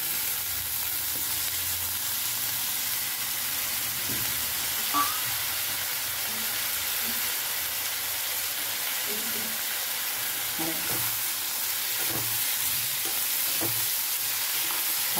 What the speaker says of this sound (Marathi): आता मी त्याच्यात कांदा मिरची परतून झाले, त्याच्यात बटाटा टाकून देणार।